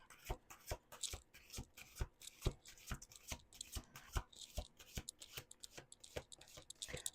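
Tarot cards shuffled by hand in a steady run of quick riffling flicks and soft slaps, about two per second, fairly close and on their own.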